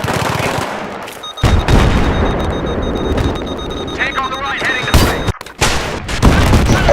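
Battlefield 3 combat with heavy explosions and bursts of gunfire, loud booming impacts punctuating continuous shooting, with voices talking over the action.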